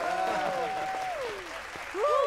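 In an animated show, a crowd applauds the young star of a new Bingo Pop advert, a steady wash of clapping carried under bright, sliding musical tones for a couple of seconds.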